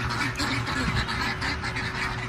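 Ducks quack repeatedly in a steady, busy chorus on a farm on their first day out, loud and close, with no talk over them.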